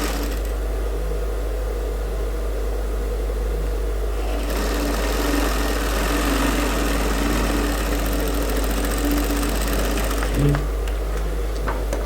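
A sewing machine stitches a fabric shape onto a women's suit, running in a steady, continuous whir that starts about a third of the way in and holds at close range, with a brief change near the end.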